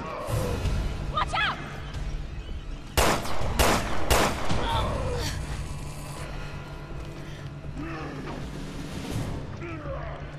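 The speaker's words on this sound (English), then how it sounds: "Let me try shooting it down." Several sharp gunshots crack in quick succession in Resident Evil: Revelations 2 as a key is shot at, loud and close, with game ambience and brief voices before and after.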